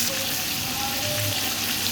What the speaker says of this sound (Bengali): এবার চিংড়ি মাছগুলোকে একটু ভেজে নিতে হবে।